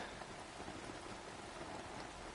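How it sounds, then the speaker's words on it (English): Steady rain pours down in the hunting game theHunter: Call of the Wild, a dense, even hiss of drops with no breaks and no voices over it. "Just in time for the rain, my favorite."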